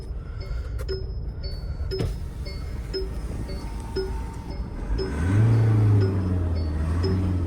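Inside a Mahindra Scorpio N, a steady engine drone and road rumble fill the cabin, with faint regular ticking, then the engine note rises and swells louder partway through as the SUV accelerates.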